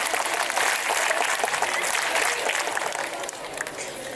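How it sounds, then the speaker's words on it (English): NCC cadets clap together at a school Children's Day prize announcement, a dense, steady roar of many hands sustained for about four seconds and easing slightly toward the end. "NCC clap, shuru kar."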